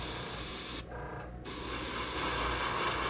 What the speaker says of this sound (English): We're gonna spray this white on here.